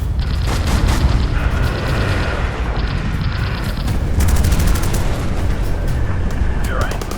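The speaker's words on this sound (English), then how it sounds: "Cannons and machine guns erupt, and tracers streak toward the bomber's tail." Loud, dense bursts of German 20mm cannon and machine-gun fire rattle continuously amid heavy booming, with engine roar underneath, during an air battle against a bomber at 18,000 feet.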